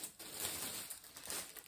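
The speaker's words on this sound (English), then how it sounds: "To show all of the yarn, it's in plastic bags, so sorry for the noise." Plastic bags holding yarn crinkle and rustle close by, a soft crackling that rises and falls in short handled bursts.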